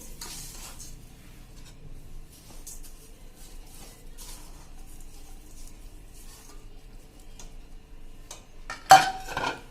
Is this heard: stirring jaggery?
yes